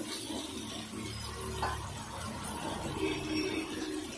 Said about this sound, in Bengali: তো আমি এখন এর মধ্যে জল এড করব